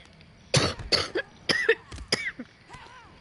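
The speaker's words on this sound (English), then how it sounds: "Sorry, I had to cough again." A single person coughs repeatedly in close, loud bursts, with several separate coughs spread across a few seconds and short pauses between them.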